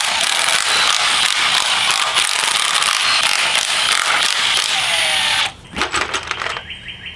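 Ratcheting E12 Torx socket loosening valve cover bolts on a Chevrolet Cruze 1.4 engine, a rapid clicking ratchet close up that runs steadily before stopping, followed by a few scattered mechanical clicks.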